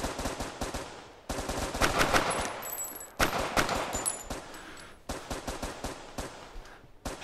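Bursts of rapid automatic gunfire from the VR shooter game Crisis VRigade, loud rattling volleys separated by brief pauses, with no talk.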